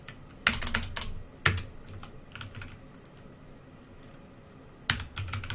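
Keys on a computer keyboard are tapped in short quiet clusters, a few sharp clicks bunched together with soft pauses between, close and alone in a quiet room.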